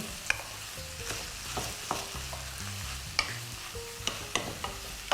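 Food frying in a pan with a steady sizzle, overlaid by intermittent clinks and scrapes of a utensil stirring, close by and without any voices.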